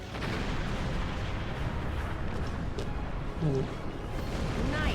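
In Star Trek Online, starship weapons fire as a continuous rumbling barrage of booming blasts with a few zapping tones. A voice speaks briefly over it.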